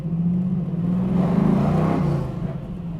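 A 1967 Chevrolet Camaro restomod's V8 engine revs up, its deep rumble swelling and then easing back, steady and fairly close with no voices.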